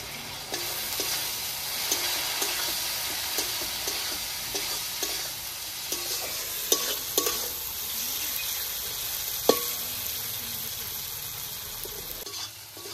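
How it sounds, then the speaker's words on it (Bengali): Capsicum stir-frying with soy sauce and vinegar in a pan gives a continuous sizzle, close and steady, with scattered clicks and scrapes of stirring throughout. "ক্যাপসিকামটা ভাজা হয়ে গেছে"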